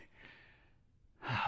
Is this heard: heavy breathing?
yes